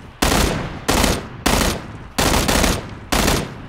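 M16 rifle burst fire in the PUBG battle royale game: five sharp, loud bursts of gunfire, roughly evenly spaced about two-thirds of a second apart, each with a quick decaying echo, close and with no talking.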